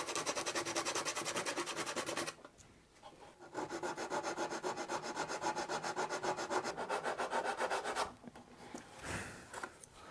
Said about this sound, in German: dann schleifen wir noch ein bisschen über die Kanten, damit der Deckel nachher schön drüber flutscht